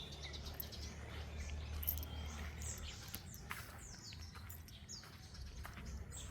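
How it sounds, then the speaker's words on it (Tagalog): Birds sing among banana plants on a farm, a steady stream of high chirps and tweets at moderate distance over a constant low rumble of outdoor background noise, with no talking. "Dami kumakanta na ibon."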